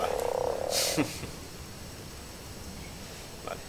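A frog croaks in the video game ARK: Survival Evolved, a loud, close burst at the start, followed by a quieter game ambience with a faint click near the end.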